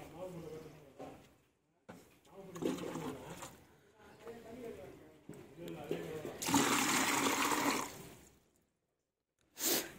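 Waterproofing chemical for a sump tank is poured from 1-litre tins into a 10-litre bucket, giving a gurgling splash in several short pours, the loudest a sustained rush near the end, with someone talking between pours.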